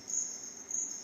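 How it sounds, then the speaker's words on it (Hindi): Jungle crickets chirp in a steady, shrill, continuous trill, close and fairly loud, with a slight pulsing swell and no other sounds over it. "आपको जंगल के पक्षियों के, क्रिकेट्स के, झिंगुरों की आवाज़ें सुनाई पड़ रही है"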